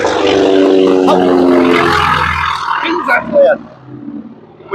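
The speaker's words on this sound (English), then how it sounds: "that was like a World War I fighter plane or something going overhead" A World War I fighter plane flies overhead near an airport, a loud roaring propeller drone that swells and then fades away, with a brief exclamation from a person partway through.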